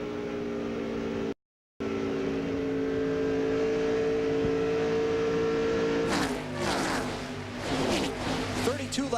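NASCAR race cars from the 2001 NAPAonline.com 250 roar past in a continuous engine drone that swells into louder, close passing bursts near the end, with a commentator talking over the race throughout.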